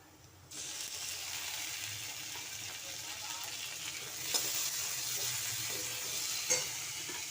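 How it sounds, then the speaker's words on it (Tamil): Onions fry and get stirred in a pan for a Tamil prawn gravy, with a soft continuous sizzle that starts abruptly and is broken by a couple of scraping stir clicks; no talking. "நல்லா வறு வணக்கிடுவோம் பாருங்கள் வெங்காயம் நல்லா வெந்துருச்சு இப்போ நம்ம தக்காளி போட்டுக்கலாம்"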